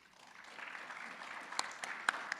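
Audience applause at an annual Middle East Institute event, starting faint and swelling into a thin spread of clapping, with a few louder individual claps near the end.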